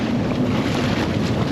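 A motorboat pulls up to a quiet spot on open water, its steady low engine drone close and continuous, with wind buffeting the microphone and water washing around the hull.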